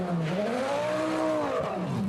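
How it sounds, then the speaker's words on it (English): A GT race car pulls away from the pit lane at Donington, its engine note rising and falling through a couple of gear changes with a brief tire squeal, loud and close, no voices. "The car gets started nice and quickly."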